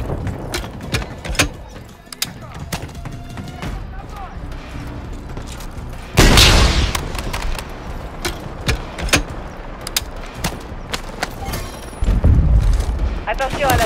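Gunfire and explosions in Call of Duty Modern Warfare 3 during a prison escape mission, with steady mechanical rattling broken by two loud booming blasts, near and heavy, mixed with game noise.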